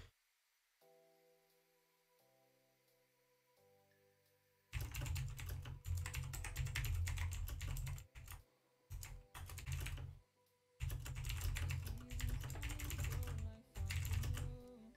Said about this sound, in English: I know my keyboard is loud.